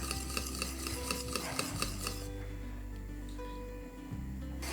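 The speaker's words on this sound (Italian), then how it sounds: "Mentre giro ogni tanto, anche sul fuoco, col cucchiaio passo sugli angoli." A spoon stirs cream in a pot on the stove, scraping steadily and rhythmically around the bottom and corners, close and continuous with a faint sizzling hiss underneath.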